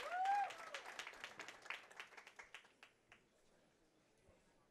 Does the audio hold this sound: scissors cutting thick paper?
no